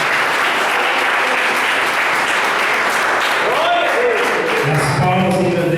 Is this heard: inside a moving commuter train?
no